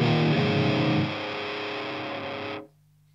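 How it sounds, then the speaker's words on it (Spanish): Guitar played through a DOD Metal X FX70 distortion pedal set to minimum distortion, a loud sustained fuzzy chord ringing out, then cutting off sharply into near silence. "vamos a probar con mínimo distorsión"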